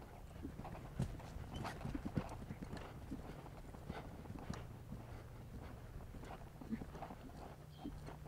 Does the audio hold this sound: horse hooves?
yes